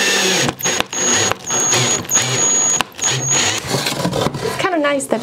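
Power drill boring two holes all the way through a 2x4 wood board for an angled window box, a close, loud whirring in several bursts with short pauses between them.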